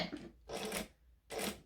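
Home sewing machine running a few stitches along the short end of a hobo bag, with three faint, short bursts of rapid stitching separated by quiet pauses.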